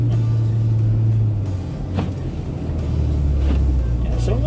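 Car driving through deep snow drifts on a blizzard road, a loud steady engine drone and rumble with wheels spinning and a brief whine, close and continuous.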